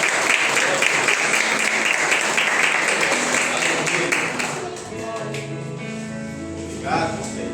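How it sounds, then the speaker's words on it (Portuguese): A church congregation applauds together, dense sustained clapping for about four seconds that then tapers into scattered claps under a voice speaking. "Dê uma salva de palmas ao nosso Senhor."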